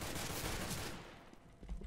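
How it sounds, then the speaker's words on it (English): Rapid, dense gunfire from Counter-Strike: Global Offensive crackles in a burst, then trails off into sparser shots. "Who's shooting me?"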